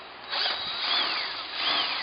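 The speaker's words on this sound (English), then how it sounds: "We're drilling the pipe that comes from the airbox itself." Power drill boring through the airbox intake pipe on a 2011 Ford F-150 EcoBoost, a close, steady whining buzz with two brief rising-and-falling pitch sweeps, heard alone.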